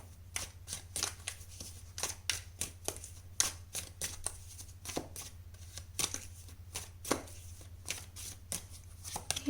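Tarot cards shuffled and drawn for a reading, a steady run of crisp riffling snaps and flicks repeating close up over a faint low hum, with no voices.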